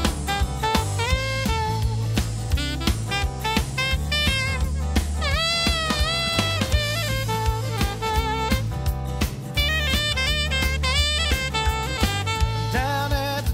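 A home-recorded saxophone plays a lively, continuous melodic line with bright, bending notes over a steady low backing, heard first with its EQ bypassed and then with the EQ engaged.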